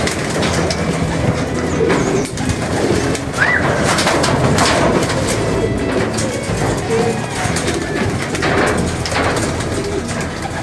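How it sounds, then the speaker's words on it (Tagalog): Racing pigeons arriving at a loft during training, with cooing and bird calls over a loud, steady outdoor background rumble that continues throughout. "Pangalawang dating ng ibon natin."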